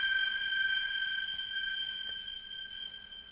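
Wet output of the Sound Toys Crystallizer granular effect, heard alone as a quiet wash of steady, high, glassy sustained tones that shimmer like sonar pings. A few faint clicks sit underneath, and the wash slowly fades.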